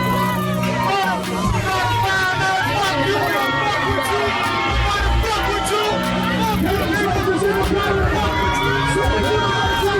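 A concert crowd jeers, boos and heckles a rapper, a dense, loud wall of shouting voices and babble that runs steadily throughout.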